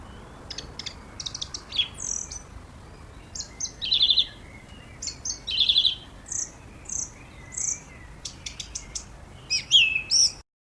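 Bird song run through an auto-tune plugin with the speed turned all the way up: a series of short, bright chirps and tweets in quick bursts, some with a glassy, pitch-corrected warble.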